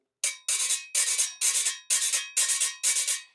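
A metal güira scraper rasps in seven quick, evenly spaced strokes, each a bright, gritty scrape, heard up close with nothing else around.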